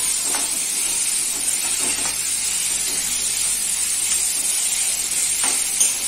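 Chopped onion stir-fried in a hot pan for Malvani-style clam sukka, giving a steady, close sizzle and hiss with faint scraping stirs throughout and no talking.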